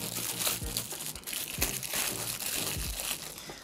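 Packaging crinkles and crunches up close as a wireless USB-A dongle for a keyboard is taken out, in a run of irregular rustles with no talk.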